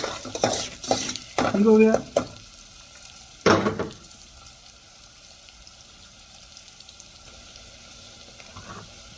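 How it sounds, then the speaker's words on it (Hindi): Oil sizzling and crackling in a pan as onions fry and are stirred, with scraping of a utensil and a brief spoken remark early on. "अभी प्याज को फ्राई करना है।"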